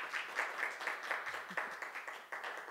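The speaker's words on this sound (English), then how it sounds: "Let's uh, give Colleen another round of applause." Applause after a historical talk on marriage rituals, soft and somewhat distant, with loosely spaced claps that swell and dip briefly.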